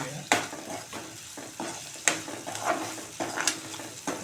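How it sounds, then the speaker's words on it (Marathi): Green chillies sauté in a pan over high heat, with a crackling sizzle and repeated scraping, clattering strokes of a stirring spoon, close and fairly loud. "मग ह्या मिरच्या पण आपण छानपैकी परतून घेऊया"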